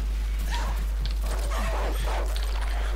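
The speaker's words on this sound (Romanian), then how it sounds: "Aud câini." Dogs bark and yip in the Call of Duty 4: Modern Warfare video game, several sharp, fairly close barks scattered across the moment over a constant low hum.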